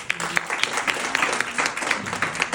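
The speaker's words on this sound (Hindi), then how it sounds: "तो एक बार इन लोगों के लिए जोरदार ताली बजा दीजिए" An audience at a yoga teaching methodologies workshop in Kanpur claps together, a dense, steady patter of applause of moderate loudness with a faint voice mixed in.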